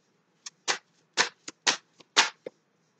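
Tarot cards are riffled and snapped in short bursts, about eight quick, close shuffling sounds separated by brief silences, with no talking.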